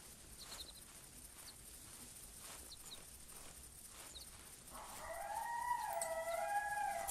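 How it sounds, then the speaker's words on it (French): A coyote howls outdoors, its rising, wavering cry starting partway through and carrying over a steady background hiss with a few faint rustles beforehand. "J'adore le bruit du coyote."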